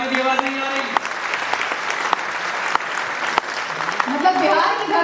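Steady applause from an audience at the Bihar Asmita award ceremony in Patna's Urja Auditorium, continuous clapping that swells slightly near the end, with a voice speaking over it.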